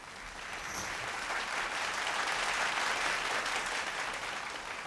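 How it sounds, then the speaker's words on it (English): Audience applause rises as a presenter walks onto the stage at a televised vocal competition show, with dense, steady clapping that holds at an even level throughout. "Please, round of applause as he makes his way onto stage"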